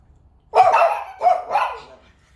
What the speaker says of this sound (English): What makes small dogs so aggressive?